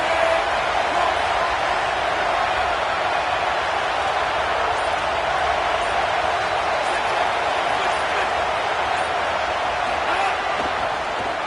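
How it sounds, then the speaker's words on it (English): Stadium crowd roar from an NCAA college football video game, Baylor versus Ohio State, a steady dense wash of cheering that holds loud and even throughout with no individual voices standing out. "this crowd rising up, sensing that its defense needs some help."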